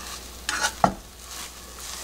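A rolled egg omelette cooks in a pan, with quiet sizzling under a couple of short scraping and tapping knocks as a utensil turns and pushes the egg.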